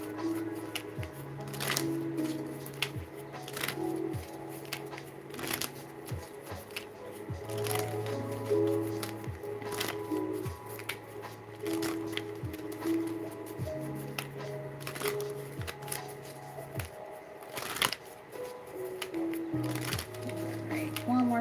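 Repeated riffle-shuffles of a deck of cards, crisp fluttering bursts at irregular intervals, close up, with a soft voice talking in between.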